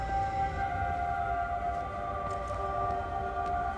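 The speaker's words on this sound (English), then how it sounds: "I now started hearing a siren." A siren in the game Everybody's Gone To The Rapture drones steadily as a sustained wavering tone over low ambient rumble, constant and moderately loud for the whole stretch.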